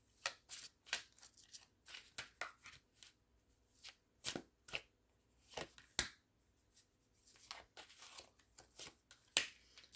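A deck of playing cards is shuffled and handled up close, giving quick crisp riffles and snapping flicks in irregular bursts with short quiet gaps between them.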